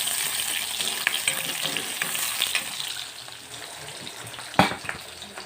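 Onions and raw green chili fry in a pan in a soft, steady sizzle with stirring scrapes, and a sharp clatter comes near the end.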